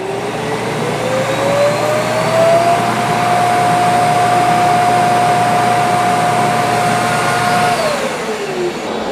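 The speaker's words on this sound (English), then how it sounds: "Now the Roomba is going to kick on its auto empty." An iRobot Roomba j9+ auto empty dock runs steadily, a loud continuous whirring suction with a tone that rises at the start and falls away near the end, with no talking over it.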